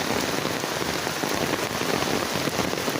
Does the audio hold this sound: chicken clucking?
no